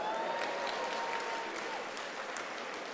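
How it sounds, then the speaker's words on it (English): Steady applause from an audience at a university's official academic-year opening ceremony, dense clapping that holds evenly throughout at moderate level with no voices over it. "So a round of applause."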